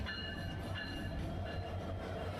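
Parjatak Express intercity train rolling into Bangladesh's airport railway station, a steady close rumble of wagons with faint rhythmic clatter and a high metallic whine throughout, no talking.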